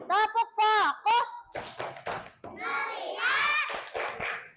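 Second-grade schoolchildren in a classroom clap a quick rhythmic pattern together, with bursts of sharp claps between their voices as they chant along.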